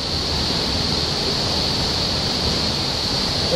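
A waterfall pours outdoors in a steady, loud, unbroken rush of white-noise water that fills the whole moment without change or pause, and no voices are heard.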